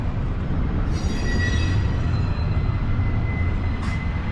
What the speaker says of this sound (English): Got a train rolling in, like I said.